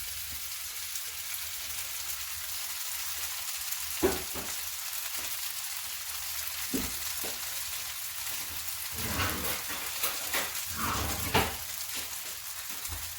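Hash brown mix hits a preheated non-stick pan on a gas burner, producing a soft, steady frying sizzle with scattered crackles and a few spatula scrapes, close and quiet with no talking.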